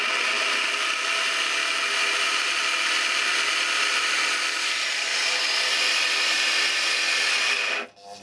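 A rusty Makita electric wood planer runs steadily at close range, a loud continuous high-pitched whine and whirr with no pauses, cutting out abruptly at the very end.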